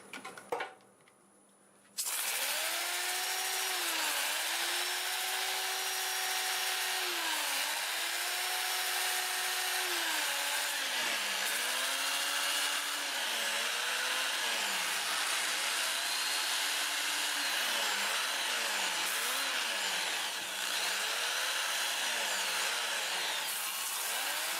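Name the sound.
sanding purple heart wood on a lathe in reverse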